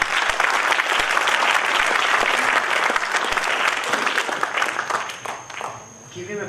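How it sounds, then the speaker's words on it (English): Audience applause at a Toastmasters meeting demonstration, a loud, sustained burst of many people clapping that fades out near the end, with talk beneath. "Give him a big round of applause."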